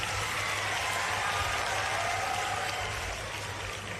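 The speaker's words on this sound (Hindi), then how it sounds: "पहले तो बेटी के लिए जोरदार ताली बजाओ" A crowd at a university campus event claps loudly for a girl, a steady dense roar of applause that runs throughout and eases slightly near the end.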